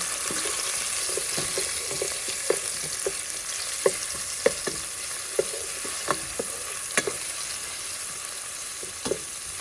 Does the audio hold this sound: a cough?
no